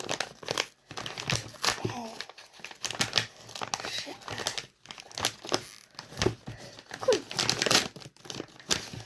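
The paper window of an advent calendar holding a gingerbread treat is opened by hand. Close, repeated crinkling and light tearing rustle in uneven bursts, with a voice speaking softly at times.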